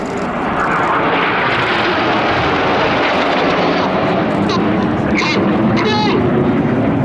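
Red Arrows jets of the Royal Air Force flying aerobatic formation at an air show, a loud continuous roar that swells and holds for the whole stretch.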